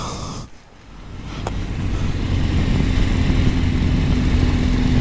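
BMW R1250GS motorcycle pulling away, its engine rising into a steady, continuous drone with heavy wind rush over the microphone, close and loud throughout.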